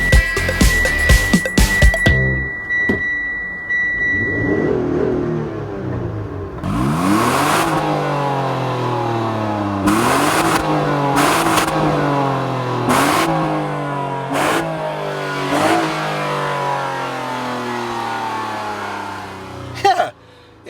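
The V6 engine of a 2014 Mitsubishi Outlander GT revs repeatedly toward redline, each sharp climb in pitch followed by a drop, in a series of rising and falling sweeps with some talk mixed in.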